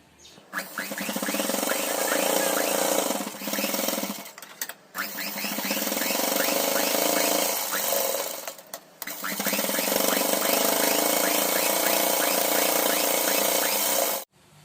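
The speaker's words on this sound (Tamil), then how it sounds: "இந்த கோட்டு மேலேயே தையல் அடிச்சு எடுத்துட்டு வாங்க" A sewing machine stitches old leggings fabric into a foot mat, running in long steady buzzing bursts with brief stops between, close and loud, with no talking.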